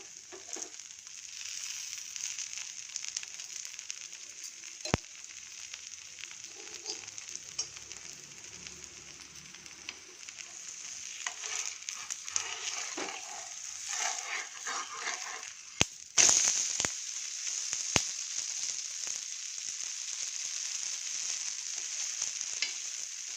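A millet, rice and wheat flour dosa cooks in ghee on a pan, giving a steady, close frying sizzle that runs throughout, with a few sharp clinks and a louder burst of sizzle partway through.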